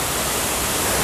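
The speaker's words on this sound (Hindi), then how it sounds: "देखो पूरा मैंने ऐसा वाटरफॉल्स कभी देखा नहीं" Thotikallu Falls near Bangalore roars steadily at close range, a dense, unbroken wash of rushing water that fills everything evenly, with no voices over it.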